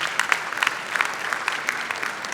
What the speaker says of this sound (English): I think we need to give them a round of applause for that.